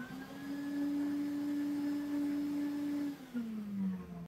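A robot vacuum cleaner's motor and brush run with a steady, close whirring hum that dips slightly in pitch near the end, alone with no talk.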